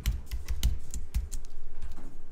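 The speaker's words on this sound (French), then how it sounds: "Donc je vais taper" Quick, crisp keystrokes on a computer keyboard while a search query is typed into a web browser, a close, steady run of clicks with brief pauses and no voices.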